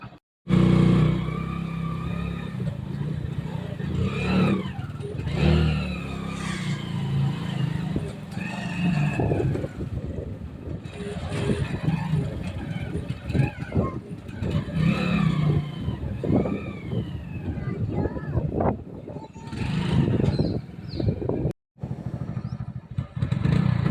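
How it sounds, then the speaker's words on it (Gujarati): A motorcycle is ridden along a road, its engine droning steadily and loudly close by, with the whoosh of wind and passing traffic rising and falling around it. "કારણ કે મારે બાઇક ચલાવવાનું છે."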